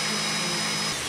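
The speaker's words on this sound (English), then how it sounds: "I couldn't hear her over the blender." A kitchen blender in a film scene from Kill Bill: Volume 2 runs with a loud, steady motor whine for the whole short moment, with no talking over it.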